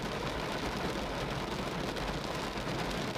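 Heavy rain pours down outdoors after a boat outing, a steady, dense hiss of drops with no break and no one talking over it.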